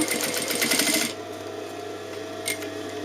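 A sewing machine runs a fast, steady burst of stitches along a 3 cm hem of an open dress, then stops after about a second, leaving a quiet hum and a faint click.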